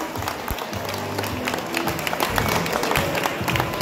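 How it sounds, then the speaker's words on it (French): Crowd applause greeting the full field of race cars at a 24-hour endurance event, steady dense clapping filling the whole stretch with some crowd noise and a few low thumps mixed in. "on peut tous les applaudir."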